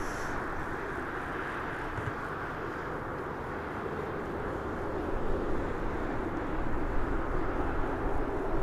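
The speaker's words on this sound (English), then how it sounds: "smoking up the runway." An airliner roars on the runway at Birmingham Airport, a broad, continuous rushing engine noise heard from a distance that slowly builds in loudness.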